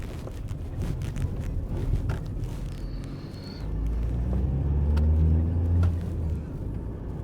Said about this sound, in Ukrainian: Автомобіль різвенький. Їде дуже файно набирає швидкість.